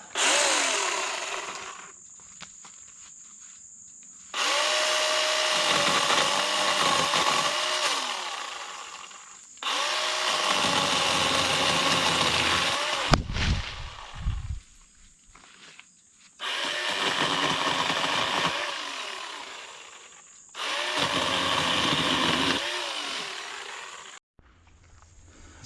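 An HT 20V Max cordless pole saw cutting low branches, its loose chain whining in several long, loud bursts of steady motor drone that sag under load, separated by short quiet gaps.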